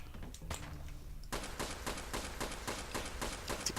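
Rapid gunfire in the Fallout video game aimed at the floor, a sharp burst of repeated shots in fast rhythm after a short quieter lead-in, loud and close with no talking.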